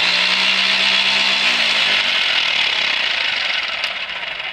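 A 12V cordless impact wrench whirs loudly and continuously at close range, a dense high-pitched motor buzz with rattling hammering texture that holds steady, then thins slightly near the end.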